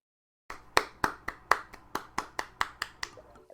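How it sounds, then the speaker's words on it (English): About a dozen sharp hand claps sound in a steady, fairly quick rhythm, close and clear with nothing else beneath them. "That was me clapping. Those were claps."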